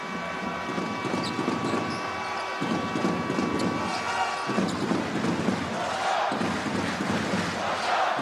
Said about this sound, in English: And the crowd